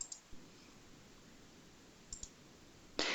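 Computer mouse clicks while saving a downloaded file, a few quiet isolated clicks spaced apart in a near-silent room, ending with a louder burst.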